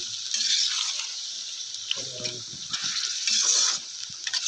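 Mutton fries in masala paste with a bright, steady sizzle that swells and fades, and a brief low knocking of a spoon partway through, close up with no talk.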